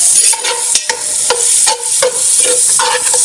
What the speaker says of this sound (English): We're going to saute this until it becomes translucent